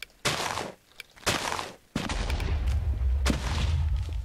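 Bombs go off in a Minecraft Crafty Bomber game on the Shotbow Network, two sharp blasts followed by a longer rumbling explosion with another burst near the end, loud and close with no talking.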